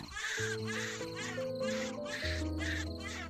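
A newborn baby cries in a horror cartoon animation, a loud, sustained wail of repeated rising and falling cries that continues over a low musical drone.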